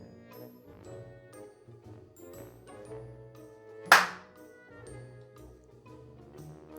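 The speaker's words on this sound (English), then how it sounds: "But do the 5 and then actual clap." A single sharp hand clap rings out once, loud and close, during a podcast intro, standing alone over faint background tones before and after.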